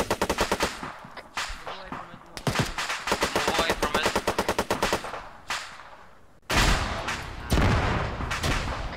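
Rapid automatic gunfire from friendly forces in the ArmA 3 war game, bursts of sharp repeated shots with short pauses and a heavier, louder stretch of firing near the end.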